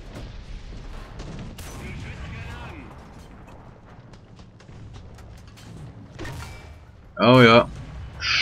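Tank gunfire in the War Thunder game, scattered distant shots and impacts with one sharp loud blast near the end, under game noise and talk.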